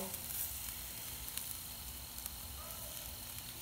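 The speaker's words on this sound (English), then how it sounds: "So I'm gonna go ahead and base this sauce on them." Garlic sauce basted onto chicken wings over hot coals sets off a steady, close crackling sizzle that runs throughout with small pops, no talking.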